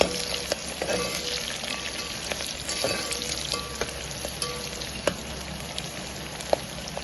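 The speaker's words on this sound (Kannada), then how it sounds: "ಕಟ್ ಮಾಡಿರುವಂಥ ಈರುಳ್ಳಿಯನ್ನು ಸಹ, ಕರಿಬೇವಿನ ಎಲೆಯನ್ನು ಸಹ ಹಾಕ್ಕೊಂಡಿದ್ದೇನೆ. ಸ್ವಲ್ಪ ಹೊತ್ತು ಬಾಡಿಸ್ಕೊಳ್ಬೇಕು ಈ ರೀತಿ ಎಣ್ಣೆಯಲ್ಲಿ." Chopped onions and curry leaves sizzle in hot oil in a pan while mushroom biryani is being cooked. The crackle is continuous and close, with occasional spoon scrapes and taps from stirring.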